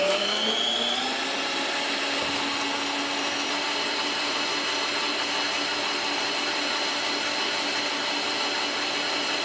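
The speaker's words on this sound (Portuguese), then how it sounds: "Para fazer o merengue francês, eu vou colocar as minhas claras na batedeira. Vou ligar a batedeira" A stand mixer whipping egg whites for French meringue runs at a steady, loud whine, its motor pitch climbing briefly at the start and then holding constant, close and uninterrupted.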